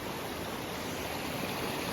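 A stream flows across a backpacking trail in the Great Smoky Mountains, a steady, close rushing of water filling the whole clip evenly, with no voices heard.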